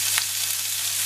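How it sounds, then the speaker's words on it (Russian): Pork frying in a pan with spices, a steady close sizzle with a brief louder spurt early on and a low constant hum underneath. "у меня свинина. И буквально обжариваем до готовности"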